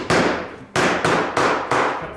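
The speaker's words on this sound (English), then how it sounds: "And I'm going to take my hammer," A hammer strikes a metal sheet being flattened for repoussé work, five sharp ringing blows at an uneven pace, loud and close, each decaying quickly.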